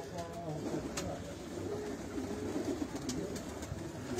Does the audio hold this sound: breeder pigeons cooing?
yes